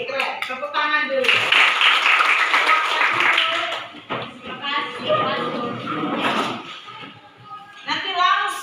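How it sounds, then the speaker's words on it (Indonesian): Students in a classroom clap their hands together in a sustained burst of applause-like clapping that fades out, with voices and talk running underneath and afterward. "Tepuk tangan dulu."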